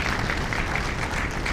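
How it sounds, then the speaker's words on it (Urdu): An audience at an Urdu mushaira poetry gathering claps continuously, a dense steady burst of applause filling the hall. "ایک شخص زوردار تالیاں بجا کر ان کی محنتوں کے لیے"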